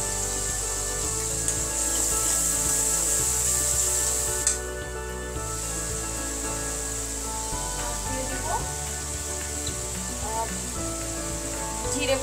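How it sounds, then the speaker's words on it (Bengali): Spices sautéing in a pan for a home-cooked Bengali dish give a steady, close sizzle with scraping and stirring throughout, broken by a brief lull midway. "আমি কিন্তু এক একটা করে মশলা দিচ্ছি আর কষিয়ে নিচ্ছি।"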